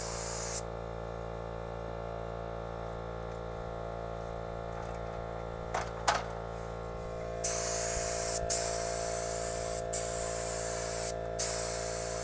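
A spray gun hisses paint onto a truck cab over a steady electrical hum, with a long continuous spray followed by several short bursts.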